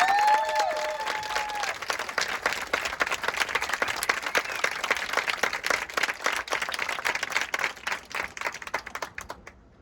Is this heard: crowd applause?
yes